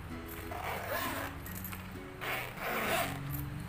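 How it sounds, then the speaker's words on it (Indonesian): Repeated zipper pulls on a handmade crocheted wallet with two zippers and many compartments, a few rasping strokes up close with no one talking. "Jadi ada dua resleting."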